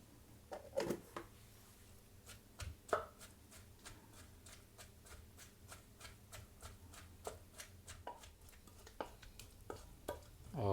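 Shrimp paste is pounded into Thai curry paste for a gaeng liang soup with a stone mortar and pestle, giving a steady series of close, sharp thuds and knocks at an uneven rhythm, with no talk.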